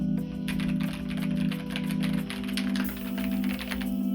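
Fast, close typing on an inexpensive mechanical keyboard, a steady run of crisp clicky keystrokes over a low electrical hum, with no voices.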